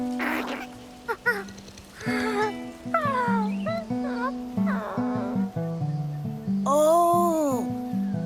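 A creature in the video game Infinity Nikki gives a string of rising and falling cat-like meows, some short and some drawn out, loud and close against a soft musical background.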